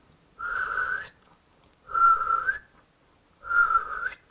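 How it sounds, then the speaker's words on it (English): A person whistles three separate, slightly breathy single notes, each lasting under a second with short pauses between, close and clear. "Sometimes I can try to whistle,"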